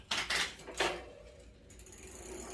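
Ratcheting clicks from an Electra Townie 7-speed bicycle shifter moving to the highest gear, a few quick close clicks followed by a faint mechanical whir as the chain settles.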